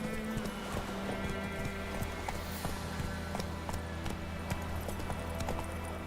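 Roach the horse from The Witcher 3 galloping, with quick rhythmic clip-clop hoofbeats running steadily throughout, close and clear over a faint game background.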